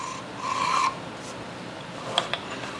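A hand file worked on its convex side rasps burrs off machined slots in a rotary fixture plate, a short quiet scraping stroke followed by a couple of faint metallic ticks, close and alone.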